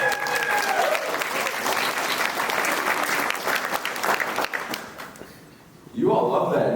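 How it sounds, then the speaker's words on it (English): An audience claps for roughly five seconds at a steady, dense level with a few whoops. The sound then thins and fades before a fresh burst of clapping starts up near the end. Some voices can be heard mixed in with the applause. "You all love that and you clap"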